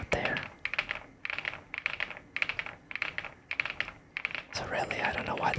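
Someone types steadily on an Epomaker Galaxy100, a 96% mechanical keyboard, and the keys clack up close in rhythmic bursts with short gaps between phrases.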